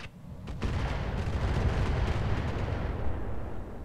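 Heavy rocket-pack barrage from a mech in the battle game Roguetech, a dense rumbling roar of overlapping blasts that swells after half a second and holds loud and steady to the end, with no talk.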